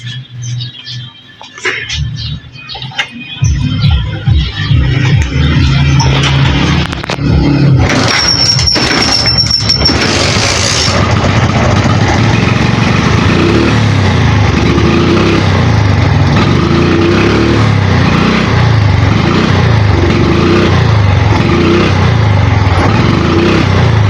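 A Suzuki Shogun motorcycle with a throttle-related misfire is started after a few rattling attempts, then runs at close range with a loud, uneven, sputtering engine note that keeps surging and stumbling.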